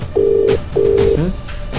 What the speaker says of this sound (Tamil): ஏய் இது முகந்தே ஃபோன் தான்டா.